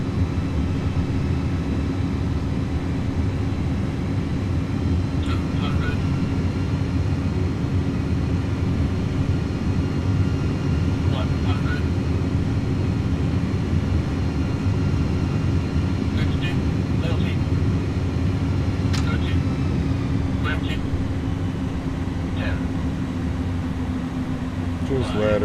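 An iniBuilds Airbus A300 with PW engines lands in Microsoft Flight Simulator, a steady loud engine and airflow drone with reverse thrust and deceleration, with people talking over it throughout.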